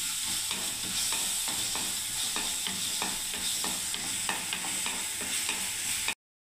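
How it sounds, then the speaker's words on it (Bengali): Garlic paste frying in a pan with onion paste, an even sizzle broken by regular scraping stirs of a spoon, roughly every half second, before cutting off abruptly; no talking. "আমি এই রসুন বাটাটা দিয়ে দিচ্ছি, রসুন পেস্ট। এই দেখুন ভালো করে আবার ভাজতে থাকবো"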